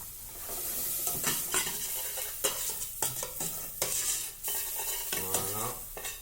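Shallots sizzle and fry in a pan for a stovetop pizza while a utensil stirs them, giving steady close frying crackle with scraping stir strokes throughout and no voices.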